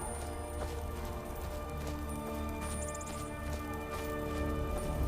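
Hooves of Shadowmare, a horse in Skyrim, clip-clop in a steady gait under busy game ambience, moderately loud and close.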